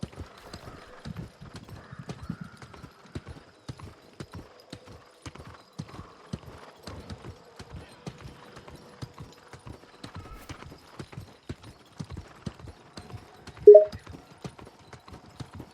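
Horse hooves clip-clop steadily in New World as the mount travels along at an even trot, each hoofbeat crisp and close, with a brief sharp squeal near the end.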